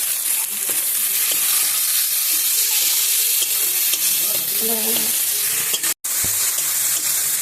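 Chopped onion, crushed garlic and tomato with salt and turmeric frying in a pan for egg curry, a loud close sizzle with stirring and scraping throughout, a brief sharp cut near the end.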